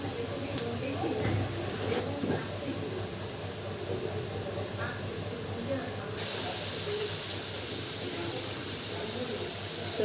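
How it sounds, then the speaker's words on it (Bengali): Dried fish simmering in a pan with a little added water gives off a steady, close hiss like steam, which turns louder and brighter partway through and holds there to the end. "এখন অল্প পরিমাণ পানি যুক্ত করে নেব এবং কিছুক্ষণ শুটকিগুলো রান্না করতে থাকবো।"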